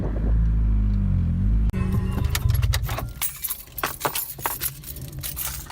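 A car engine drones low and steady inside the cabin, and the pitch of its rumble shifts as the gears change. A sharp break is followed by rattling and jangling clicks close by over the continuing hum.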